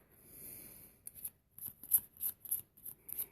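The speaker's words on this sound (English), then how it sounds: "I'm also going to be shuffling the Archangel Metatron cards" Archangel Metatron oracle cards shuffled by hand: a soft sliding rub, then a run of quick crisp riffling snaps at a steady pace, close and alone.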